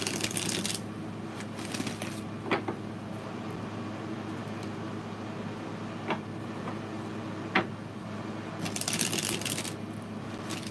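Tarot cards are shuffled in short bursts of riffling at the start and end, with a few sharp taps in between over a steady low background hum.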